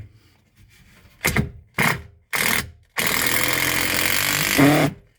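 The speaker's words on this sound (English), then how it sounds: "I'm going to run the driver in here, and we're just going to reinforce the original." Power driver sinking 3-inch drywall screws up into a ceiling from below: three short whirring bursts, then a longer sustained run that strains near the end, loud and close with no talking.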